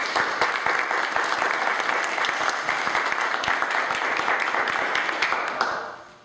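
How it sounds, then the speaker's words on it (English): Round of applause at an annual budget meeting: dense, sustained clapping from a roomful of people, fairly loud and even, tapering off at the end. "I think it's worth a round of applause, folks."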